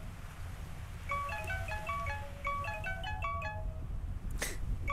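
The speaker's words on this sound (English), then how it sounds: "Why do you have a creepy ringtone?" A phone ringtone in the video game To the Moon plays a repeating pattern of bright, high electronic tones in a steady melodic rhythm over a low background hum, ending with a short burst.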